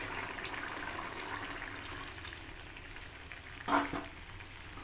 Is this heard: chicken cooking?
yes